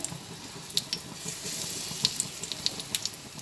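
Dal and egg fritters fry in oil in a pan, producing a soft, steady sizzle with scattered small crackles and pops throughout.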